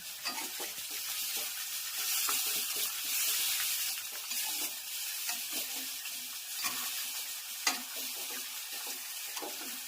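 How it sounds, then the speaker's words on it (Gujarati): Sesame seeds crackle and sizzle in hot oil as the tempering for patra is stirred, a continuous close bright hiss broken by scattered pops and utensil scrapes, with no talking. "સરસ મજાનો પાત્રાનો વઘાર થઈ ગયો છે"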